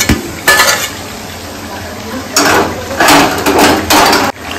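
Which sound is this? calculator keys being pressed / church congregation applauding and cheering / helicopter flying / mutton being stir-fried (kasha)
mutton being stir-fried (kasha)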